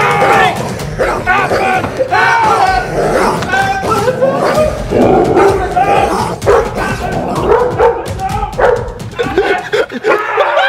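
A six-month-old Dalmatian puppy barks and yips repeatedly up close, its sounds mixed with loud, overlapping human voices and excited commotion throughout.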